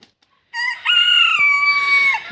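A crested rooster crows loudly and up close, one long drawn-out call with a short break near the start, with no talking.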